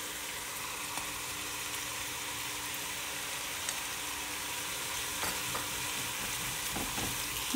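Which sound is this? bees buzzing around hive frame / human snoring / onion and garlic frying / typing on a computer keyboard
onion and garlic frying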